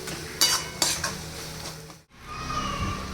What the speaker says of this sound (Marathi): पुन्हा असं छान मिक्स करून घ्यायचं आहे आणि एक दोन मिनटं असं अजून परतून घ्यायचं